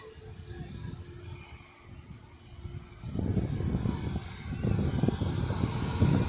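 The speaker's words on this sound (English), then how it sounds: "There you go, it's a Jet2. Yeah, it's an A321neo." Jet2 Airbus A321neo airliner at an airport, its engines giving a steady broadband roar that grows louder and fuller partway through, heard close and without speech.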